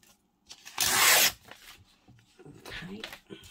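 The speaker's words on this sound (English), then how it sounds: "Let's rip that down." Paper being ripped down by hand for a junk journal page, one loud, close tear lasting about half a second, followed by softer rustling and handling sounds.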